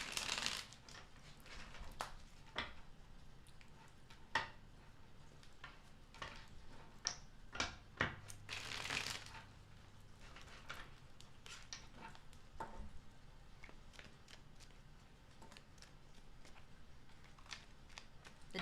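Tarot cards shuffled by hand close by, quiet irregular flicks and riffles with sharper snaps scattered across the stretch, no talking.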